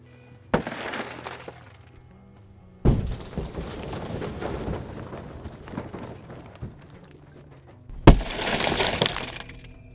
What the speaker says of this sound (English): All right, now we're gonna break the glass.